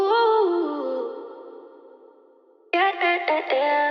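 Reverb-and-delay-soaked vocal sample melody notes in an FL Studio pain-melody beat: a sustained sung tone fading into echoing tails, then a sharp new phrase of bright, chopped notes.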